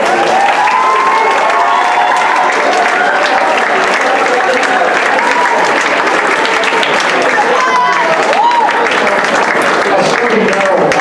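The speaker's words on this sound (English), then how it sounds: "Nice round of applause for that" A school assembly crowd applauds and cheers for a teacher, Mr. Wallace: loud, sustained clapping mixed with whoops and shouted voices, some sounding young, continuing throughout.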